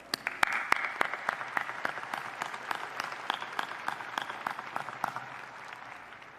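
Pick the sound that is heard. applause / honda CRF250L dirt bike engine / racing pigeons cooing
applause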